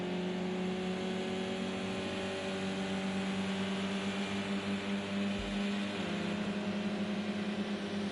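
Racing cars circulating on the Snetterton track during a MEGA Sport UK race, a steady, loud engine drone with sustained revving tones and a brief low thump near the middle, no talk.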